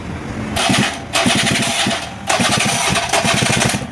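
A small two-stroke scooter engine runs with a rapid, rattling putter, started by its self-starter, cutting out briefly and restarting twice, loud and close.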